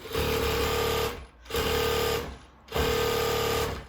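A Jack H2 walking foot sewing machine runs in three fast, loud bursts of steady mechanical whirring, separated by brief pauses, with no talking.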